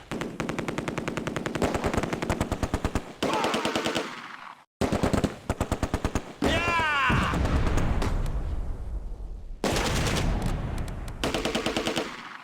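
Sustained heavy machine gun bursts in the WWII strategy game Close Combat: A Bridge Too Far, loud rapid rattling in long stretches broken by brief gaps, with heavy impacts and a rising whistling shell sound midway.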